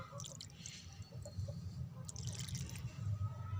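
Water is poured onto the soil of a pot freshly sown with spinach seeds. It makes a soft, steady trickle with faint drips and wet squishing, quiet and close, and no one speaks.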